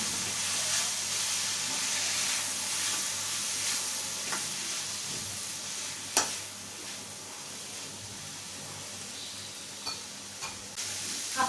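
Shevga (drumstick) leaf curry with freshly grated coconut being stirred in a hot pan, a soft steady sizzle with occasional spoon scrapes and taps, fairly quiet and without speech.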